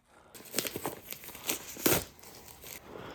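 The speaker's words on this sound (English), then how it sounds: "first thing we're going to do is just take out the shrink wrap" Shrink wrap crinkles and tears as it is peeled off an LED headlight bulb box, a string of close, crackly plastic rustles with a sharper rip near the middle, no talking.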